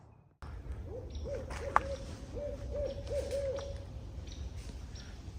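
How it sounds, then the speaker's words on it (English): A barred owl hoots close by in a run of repeated rising-and-falling calls over a low background hum, with one sharp click partway through, no talking. "That barred owl was right there, huh?"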